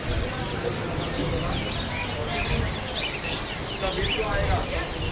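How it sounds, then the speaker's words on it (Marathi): Birds chirp and tweet steadily amid the bustle of a busy pet market near CSMT station, with voices talking throughout. "तिकडे भरपूर प्राणी पक्षी असे आहेत रंगीबेरंगी"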